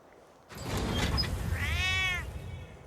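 A cat meows once, clearly and fairly close, a drawn-out rising then falling call over a soft background hum.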